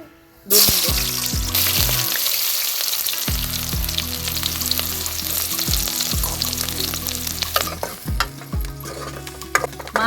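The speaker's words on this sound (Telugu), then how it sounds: "ఇంకా యాలకుబుడులు లవంగాలు చక్క ఆకు ఇవన్నీ వేసుకుందామండి ఇంకా ఉల్లిగడ్డలు కూడా వేసుకుందామండి" Cardamom, cloves, bay leaf and onions fry in hot oil while a utensil repeatedly stirs and scrapes the pan, giving a loud, steady sizzle punctuated by rhythmic clanks and scrapes.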